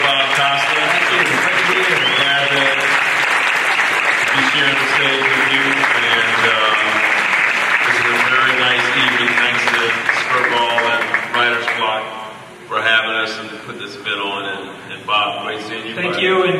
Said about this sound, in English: let's give a round of applause to Bob Costa.